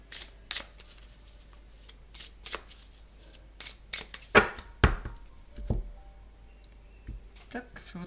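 A deck of Lenormand cards is cut and shuffled up close, with sporadic crisp snaps, riffles and card slaps separated by short pauses, along with faint background noise.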